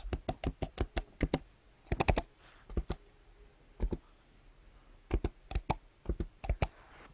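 A password is typed on a Mac keyboard in short bursts of crisp, close key clicks, separated by brief pauses, in a quiet room with no talking.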